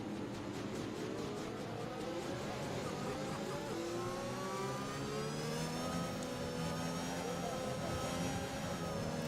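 Formula 1 race cars in the F1 2021 video game at the Belgium circuit drone continuously behind a safety car, with engine notes rising and shifting as several cars pass, a steady loud roar throughout.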